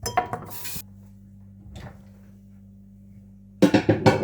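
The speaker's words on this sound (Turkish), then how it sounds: "Şimdi bulaşıkları yıkayacağım." Dishes being washed at a kitchen sink: clattering bursts of plates and cutlery at the start and again at the end, with a low steady hum and quieter stretches between.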